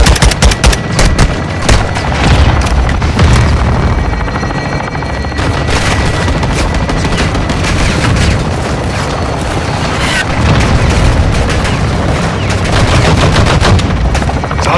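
Heavy gunfire in Modern Warfare 2, loud sustained automatic bursts and booming impacts layered with a helicopter-like drone throughout, with voices calling out over the battle.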